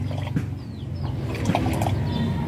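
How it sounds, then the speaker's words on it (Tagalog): Water is poured into a milk-based ice candy mixture, a close, bubbling, gurgling stream that runs steadily throughout, with a few faint background chirps and no speech. "Dayon pag butangan na po siya tubig,"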